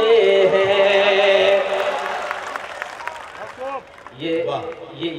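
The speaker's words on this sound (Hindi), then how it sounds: "ये तालियां अबू आसिम भाई के मुशायरे में कमजोर है" A mushaira audience in Govandi claps in a fairly loud burst that thins out, beneath a voice speaking over it.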